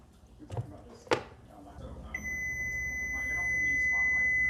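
A kitchen timer for cooking eggs and coffee goes off with a steady high-pitched electronic beep that starts partway through and continues, after a few handling knocks and faint room noise.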